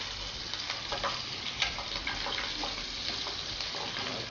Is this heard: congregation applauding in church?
no